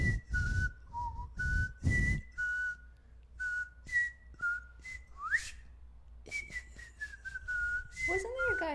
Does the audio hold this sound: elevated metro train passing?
no